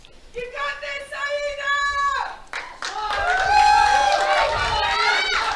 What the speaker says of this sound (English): Big cheer from the crowd.